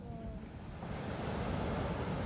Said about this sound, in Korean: 이게 바다 파도가 여러분 거짓말 아니라 이걸 서핑해도 될 정도야